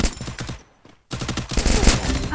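Rapid bursts of gunfire from the video game Free Fire, dense repeated shots that stop briefly and then resume loud and continuous.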